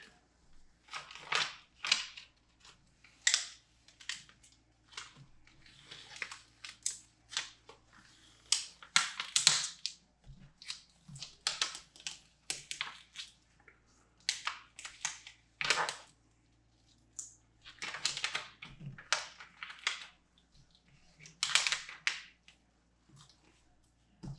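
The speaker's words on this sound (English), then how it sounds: "So I'm just peeling this stuff away. Just trying to peel it away." Material being peeled and torn away by hand while making a hat, a string of crisp crackling rips and snaps in irregular bursts, close up, with no talking.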